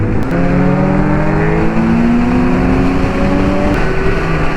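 Superbike on a group ride roaring past close by, its engine note climbing steadily in pitch over a constant loud rush, with a brief sharp shift partway through.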